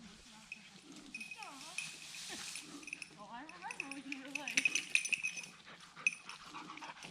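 A hunting dog working woodcock cover in Minnesota in October whines and yelps in rising, wavering cries, close to the microphone, over rustling brush, while someone speaks to it in short commands.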